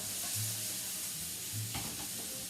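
Tasso sizzles and hisses steadily in a hot pan for a wild mushroom pasta, loud and close, with a short stirring scrape midway and no voices over the frying.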